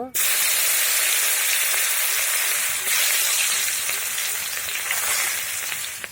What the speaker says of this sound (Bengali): এখন পেঁয়াজ কুচিটা দিয়ে দিব